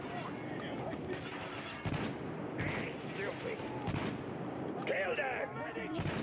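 Gunfire in the shooter game Metro Exodus: repeated sharp shots and bursts at irregular intervals, fairly close and loud, over game ambience, with a voice speaking between the shots.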